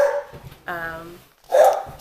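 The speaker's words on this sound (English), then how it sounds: "So the dogs are barking now." Dogs at a house bark twice in quick succession, a sharp bark followed after a short pause by a second, louder bark, fairly close with no talking.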